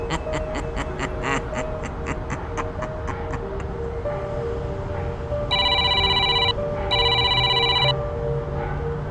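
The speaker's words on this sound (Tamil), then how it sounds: "உங்கள் ஃபோன் அடிக்குது" A phone rings loud and near in two sustained bursts of electronic bell tone, heard over faint background noise after a stretch of other tonal sounds.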